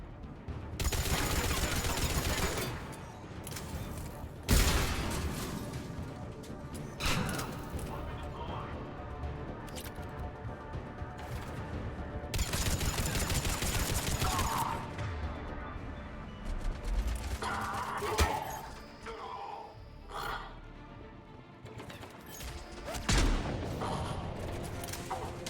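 Gunfire in the video game Mass Effect 3, rapid bursts and loud shots in clusters, some booming impacts, mixed with game noise and someone talking over parts of it.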